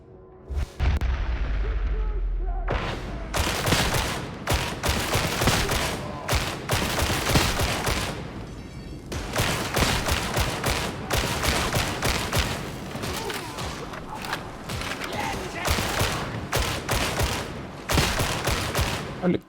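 Gunfire in the video game Warhammer 40,000: Darktide, loud and close, with rapid repeated bursts and heavy booming shots going almost continuously, and voices talking under the barrage.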